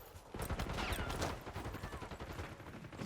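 A decoy grenade in Call of Duty: Black Ops 6 multiplayer gives off fake gunfire, a dense and fairly faint rattle of rapid automatic shots that runs without a break.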